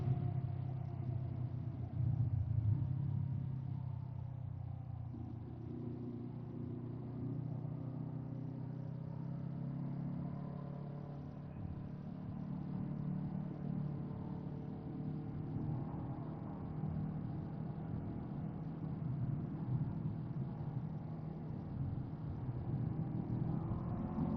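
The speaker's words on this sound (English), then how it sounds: "This engine is great for off-roading." Off-road motorcycle engine while riding, a steady mid-pitched rumble that rises and falls with throttle and gear changes, close and continuous throughout with no talking.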